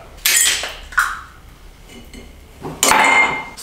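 Clear ice cubes from a countertop ice maker clinking and clattering, with sharp glassy rattles in two loud bursts separated by a lighter tinkle, close up and without talk.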